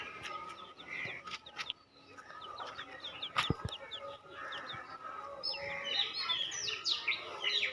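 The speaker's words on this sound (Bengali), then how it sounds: "এগুলি বড় হচ্ছে না মুরগিগুলি" Chickens clucking and chirping nearby outdoors, a continuous busy chatter of hens with scattered sharp calls and a few knocks, fairly faint.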